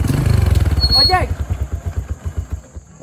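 An ojek motorcycle taxi engine idles and putters in a rapid, close rhythmic chug, running under a voice.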